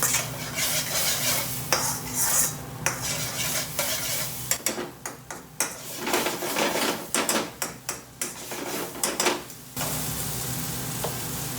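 Mushrooms seasoned with salt and dried fenugreek leaves cook in a pan for pilau rice, with a constant close sizzle cut through by a rapid series of spoon scrapes and clacks against the metal.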